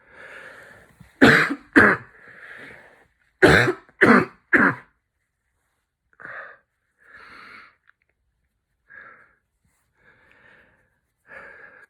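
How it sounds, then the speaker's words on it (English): A run of harsh coughs from a person with possible coronavirus symptoms in two bursts, then fainter wheezy breaths and short throat noises trailing off, close and clear with no talking. "That coughing, the coughing takes it out of you too."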